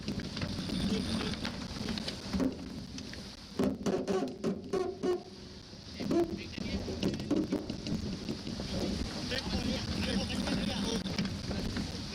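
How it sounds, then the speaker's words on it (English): Aboard a racing sailboat jibing under heavy wind pressure: steady wind roar with creaking, knocking and rattling of rigging and hull, a cluster of sharp knocks midway, and muffled voices at times. "just the sound of what's going on inside that boat, you can tell the amount of pressure that's on"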